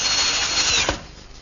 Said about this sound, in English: All right, a few screws to hold it together.